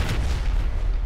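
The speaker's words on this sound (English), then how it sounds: "Firework. Just shoot it." A single firework bursts in Garry's Mod as a short, heavy boom with a rumbling low tail, loud and close.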